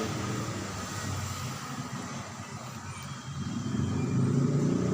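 A jeepney rolls along a road in Bagong Barrio, its engine a low rumble under steady street traffic, swelling louder as it nears toward the end.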